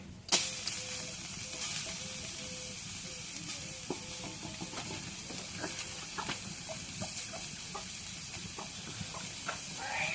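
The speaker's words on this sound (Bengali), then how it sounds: "কড়াইয়ের মধ্যে পেঁয়াজ দিই।" Steady sizzling hiss of onions frying in a hot kadai, with occasional light clinks of a utensil against the pan.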